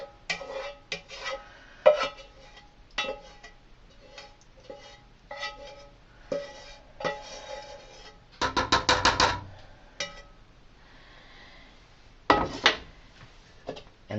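Scraping the leftover contents of a pan into a pot of old-fashioned green beans with bacon: a string of quiet metallic taps and ticks, then two louder rasping scrapes, close and with no talk.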